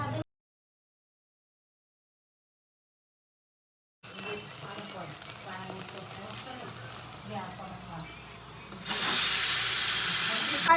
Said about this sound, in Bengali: আজ অনেক দিন পর বাড়িতে একটু বড়ি ভাজছি।